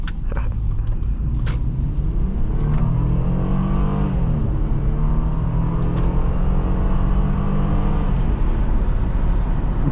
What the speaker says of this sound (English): like the sound of the engine, like this, like that woo